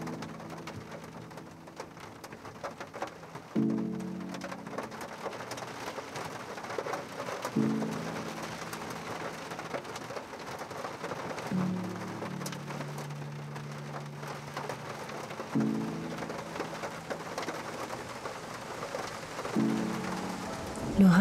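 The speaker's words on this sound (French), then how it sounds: "Tu savoures le son de la pluie qui tombe sur le toit de ta voiture." Rain falls on a car roof during an approaching thunderstorm, a soft continuous patter heard beneath a calm voice and low sustained musical tones that recur every few seconds.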